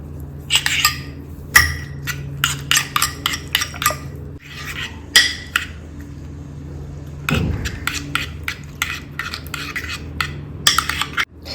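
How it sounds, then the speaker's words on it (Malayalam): A spoon clinks and scrapes quickly against a bowl while eggs, Maggi noodles, salt and masala are mixed together, making close, rhythmic tapping and rubbing sounds. "ഇനി നമുക്ക് ഇതെല്ലാം കൂടിയിട്ട് മിക്സ് ചെയ്തെടുക്കാം."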